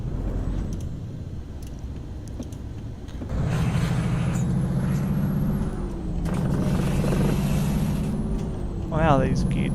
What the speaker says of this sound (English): Wow, these gear changes are sounding interesting to say the least.